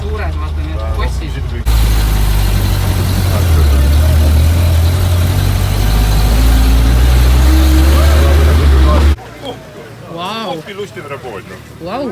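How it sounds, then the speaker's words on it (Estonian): A running steam engine at a motor family day gives a loud, steady low mechanical rumble close by for several seconds, then drops away abruptly as a voice speaks over quieter background. "Vau, mis aurumasin see on?"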